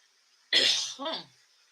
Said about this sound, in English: forgive my cough for everybody, because it's just terrible.